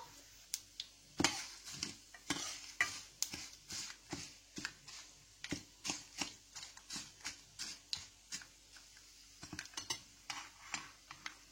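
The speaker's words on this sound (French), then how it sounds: "Donc, on va laisser sauter quelques instants." A sauce for tamarind rice sautés in a pan, with regular stirring scrapes and taps over a faint, low sizzle, close and quiet, repeating at a steady pace.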